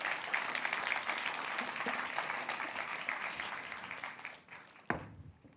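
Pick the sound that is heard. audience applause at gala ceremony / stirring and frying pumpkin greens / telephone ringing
audience applause at gala ceremony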